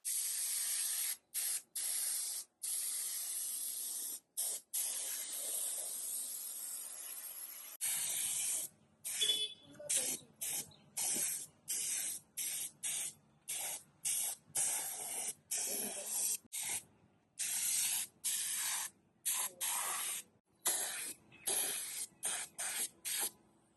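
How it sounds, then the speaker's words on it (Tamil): An electric paint sprayer hisses in bursts while coating a Ganesha idol in a workshop, starting with one long steady spray, then switching to rapid on-off pulses of sharp, close hissing. "ஸோ இந்த மாதிரி வந்து கரண்ட்ல கனெக்ட் பண்ணிட்டு அது மூலயமா ஸ்ப்ரே மாதிரி அழகா பண்ணிடுறாங்க."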